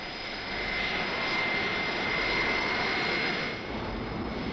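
Comet jet airliner in flight on the first jet passenger service in 1952: a steady, moderately loud engine roar with a sustained high whine, heard alone and unbroken throughout.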